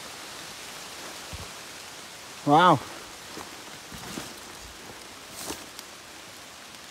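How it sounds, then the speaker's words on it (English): Rain starting to fall on the Appalachian Trail: a steady, soft hiss of drops with scattered sharper taps close by, and a man briefly exclaims partway through. "here comes the rain"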